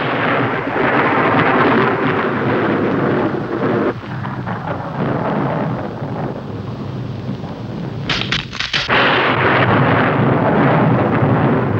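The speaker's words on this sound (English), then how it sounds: "Now we know how to make lightning and thunder." Machine-made thunder and lightning effect in a 1970s television scene: a continuous, loud roaring rumble with crackling bursts, briefly dipping before surging again, with no talking.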